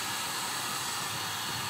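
A blower drying a wet filter from a Yamaha Mio i 125 motorcycle, a loud, steady, close whooshing roar of air without pause.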